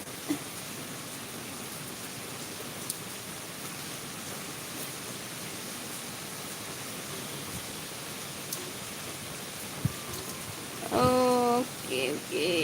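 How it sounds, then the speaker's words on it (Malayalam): Heavy rain pours down in a steady, even hiss that continues throughout, and a voice speaks briefly near the end. "മഴ പെയ്യണത് കാണുന്നുണ്ടാ"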